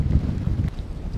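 Wind buffets a fishing boat on Lake Sakakawea, a steady low rumble of gusts against the microphone with no voices, loud and close.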